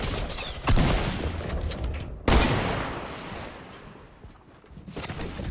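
Gunfire in a zombie video game: two sharp, loud shots about a second and a half apart, each trailing into a rumbling, noisy tail with scattered crackles, with no speech over it.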